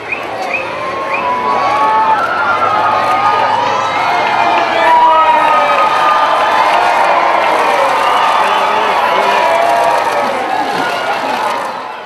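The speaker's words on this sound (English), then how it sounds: "Once again a roar went up from the crowds as the Queen's car appeared from the direction of the Minster" Large street crowd in York roaring and cheering as the Queen's car appears from the direction of the Minster, a dense continuous wall of shouts and whistles, loud and close, holding steady throughout.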